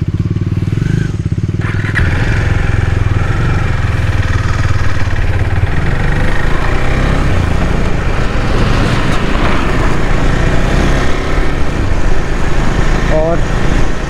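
KTM Duke 390 motorcycle engine droning steadily while cruising at around 80–90 km/h on a long highway ride, a loud continuous hum with wind and road noise throughout, speech faintly mixed in.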